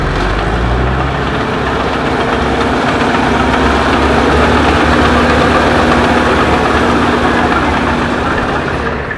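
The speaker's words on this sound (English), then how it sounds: "It's a G6 loader from Allis Chalmers." An antique Allis Chalmers G6 loader tractor idling at a steam show, its engine a steady, loud, close low rumble with an even throb and no talk over it.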